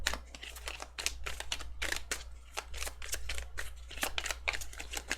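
Tarot cards being shuffled by hand, a steady run of quick papery riffles and soft slaps repeating close by, with no talk over it.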